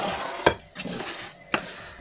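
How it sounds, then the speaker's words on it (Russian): A kitchen knife cuts a zucchini into rings about 1.5 cm wide on a board, giving three sharp, close thuds spaced roughly a second apart, with quiet room noise between the cuts. "Кабачки нарезаем на кольца."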